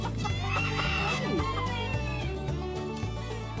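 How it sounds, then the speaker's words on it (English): Salmon Faverolles bantam chickens cluck close by while a voice speaks, over a bed of background music. "These are two lovely little salmon Faverolles bantams, a little pair."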